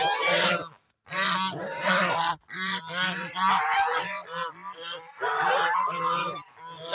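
A group of geese honk loudly and close by in a dense, overlapping chorus of harsh calls, nearly continuous with only brief pauses.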